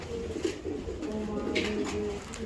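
Racing pigeons coo softly in a loft, a few low rolling calls repeating close by at a faint level, with a hint of background voice.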